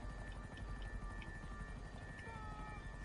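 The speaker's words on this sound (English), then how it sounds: "hop back in the helicopter and fly to the hangar" A helicopter in the video game GTA V drones steadily with a low, continuous rotor thrum, moderately close and even in level throughout.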